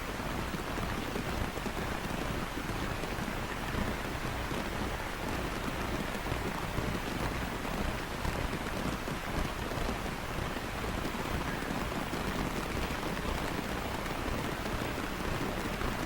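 Heavy rain pours down during a middle-school football match, a dense, steady hiss that runs unbroken from start to finish with no clear voices.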